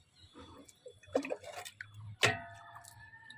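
Water for watering dragon fruit plants is mixed and poured, giving a few scattered drips and small splashes with one sharp clink, close and fairly quiet with no speech.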